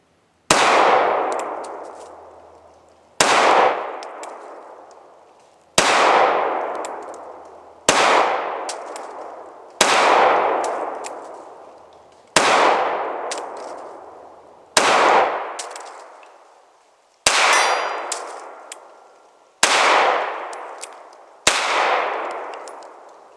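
A Springfield Hellcat pistol fires ten separate slow shots at 7 yards, each a sharp, loud crack with a ringing tail, spaced roughly two seconds apart at an even pace with no talking.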